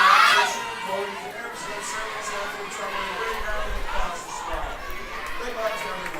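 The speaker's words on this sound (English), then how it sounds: "the cheers, the team cheer is really the kickoff, which really lets you know it is actually time to bowl" A college bowling team lets out a loud group cheer to kick off an NCAA match, a burst of shouting voices at the start that settles into a steady crowd hubbub with chatter.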